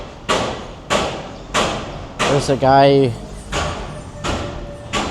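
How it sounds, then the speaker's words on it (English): A man bangs on the ceiling of his truck on a street in Hanoi, Vietnam: a series of heavy dull thuds at a steady pace, near and fairly loud, with a brief spoken phrase partway through. "banging on the ceiling of his truck over there"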